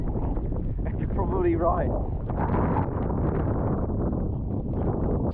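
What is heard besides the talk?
strong wind on the coast buffeting the microphone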